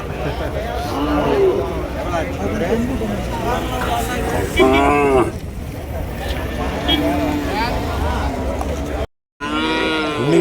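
Bulls and cattle low at the Vaniyambadi cattle market, drawn-out moos rising over crowd noise and people talking nearby, with a brief drop to near silence toward the end.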